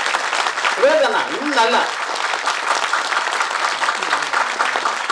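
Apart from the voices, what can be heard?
audience applause at a film audio launch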